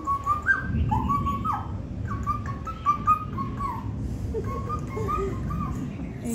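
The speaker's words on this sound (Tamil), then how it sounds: "இன்னும் அந்த குருவி இங்கேதான் இருக்கு குட்டிஸுங்களுக்கு சாப்பாடு கொடுத்துக்கிட்டு." Sparrows chirp in short, high bursts while feeding their chicks, the calls coming and going in a loose rhythm over a low background rumble with no talking.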